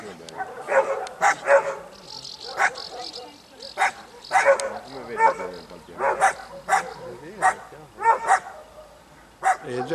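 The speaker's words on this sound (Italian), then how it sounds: "Solito cane che ha visto il cross e si mette a fare casino." A small, rowdy dog near a rural road barks repeatedly in sharp bursts, reacting to a passing motocross bike, with some yips mixed in and voices talking intermittently under the barking.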